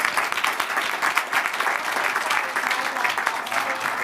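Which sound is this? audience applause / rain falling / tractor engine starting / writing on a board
audience applause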